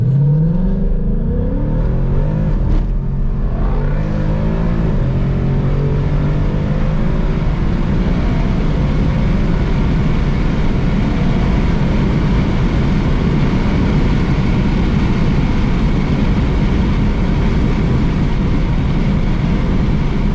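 Ford Mustang GT V8 engine driving on its first outing after sitting for a while, a steady loud rumbling drone with an early rev climb, then a constant cruising hum and road roar, no voices.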